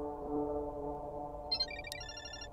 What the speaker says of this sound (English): Asuka's ringtone. I think it's coming from the balcony?